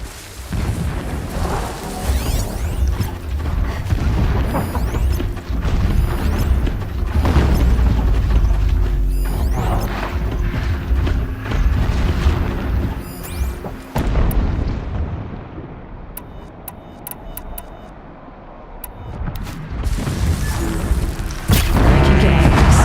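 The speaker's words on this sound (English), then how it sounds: "Explosions in the distance." Deep distant booms and rumbling explosions roll through a Horizon Zero Dawn game scene, loud and sustained for several seconds before dropping away into a quieter stretch, then building again.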